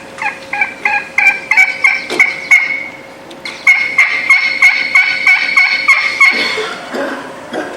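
Wild turkeys gobble in loud, rapid bursts, a string of repeated calls, a short pause, then another run of gobbles, close and clear with no talking over them.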